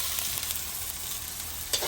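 Liver cooks in a hot pan over a strong burner for Batangas lomi, giving a dense, even sizzle and hiss close by, with a brief scrape near the end.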